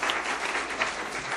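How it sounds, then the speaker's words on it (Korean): Church congregation clapping at an evening worship service, a steady, moderately faint wash of hands applauding with no clear break through the short stretch. "우와, 박수 한번 하겠습니다. 박수."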